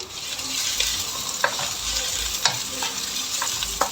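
Garlic fries in a pan for a parrotfish dish with a continuous loud sizzle, broken by soft periodic scrapes as it is stirred, close up and with no talking.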